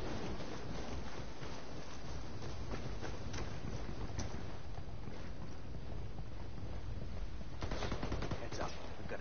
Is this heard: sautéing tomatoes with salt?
no